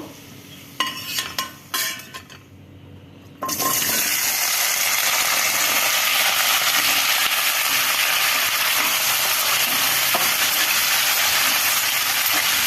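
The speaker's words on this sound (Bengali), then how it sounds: "এরপরে এবার ওই তেলের উপরে উপরেতে আলুগুলো ভেজে নেব" Potatoes frying in hot oil for a potato and pointed gourd curry with fish roe, a loud steady sizzle and hiss that starts after a few quieter clatters and continues unbroken close by.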